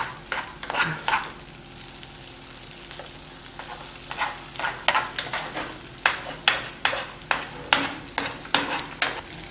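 Eggs for pão com ovo are stirred in a sizzling frying pan, a soft steady fry broken by a series of sharp utensil scrapes and taps that grow louder and quicker toward the end.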